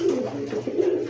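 Close, repeated throaty cooing from pigeons in a loft, a pulsing run of low calls over a short stretch with no voices.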